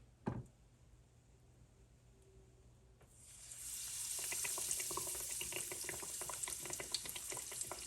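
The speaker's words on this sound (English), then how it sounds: "It's coated in the Doritos, and now we're just going to fry them." Doritos-coated chicken tenders frying in a pan of oil: after a quiet start with a brief clunk, a bright, dense sizzle surges up around three seconds in and keeps crackling steadily, close by.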